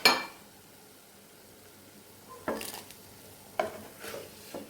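Fried green mango pieces are scooped from an oil-filled pan in a few separate scrapes and clinks, with faint frying sizzle in the quiet gaps between them.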